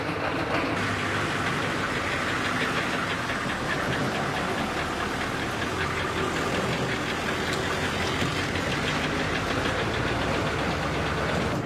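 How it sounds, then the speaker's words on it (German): A bus engine idles steadily with a rough, knocking, tractor-like chug, loud and continuous with no pauses or talk over it. "wenn ich den Motor anmache und den Bus fahre"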